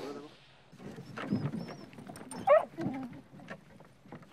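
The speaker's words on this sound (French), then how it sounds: "Il n'hésite pas aujourd'hui à lancer ses chiens sur des sangliers réputés très difficiles." A pack of hunting dogs, beagle-type hounds, chasing wild boar in the Sologne, with scattered yelps and whimpering barks at a moderate distance between moments of quiet and people talking.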